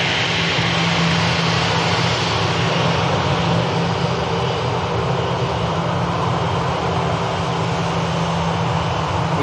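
Airliner engines roaring during a departure takeoff roll at Manchester Airport, a loud, dense, continuous rumble and whine that holds steady from start to finish with no talking.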